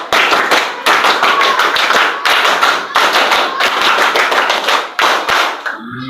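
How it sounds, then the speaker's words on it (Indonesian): A classroom of children performs the Indonesian scout clap (tepuk pramuka), bursts of rapid group hand claps in a set rhythm, repeated in loud, close phrases with brief gaps between them. "2 kali tepuk pramuka"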